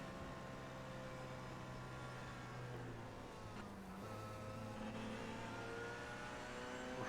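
An LMP2 prototype race car drives past during the 24 Hours of Le Mans. Its steady, droning engine note with harmonic whine shifts in pitch and is heard alone.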